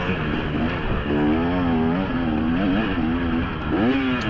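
Dirt bike engine revving in a false neutral during a junior motocross race, a loud close whine whose pitch climbs, dips and swells again in uneven surges, no voices.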